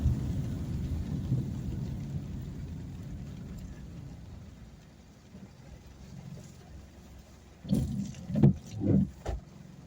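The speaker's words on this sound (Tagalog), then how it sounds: "Umuulan." Rain falling on an afternoon, a soft steady wash that fades gradually, followed by several louder irregular thumps and rumbles near the end, no talking.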